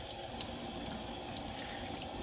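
Tap water runs in a steady, close hiss as chanterelle mushrooms are rinsed under a sink faucet, continuous and unbroken with no voices.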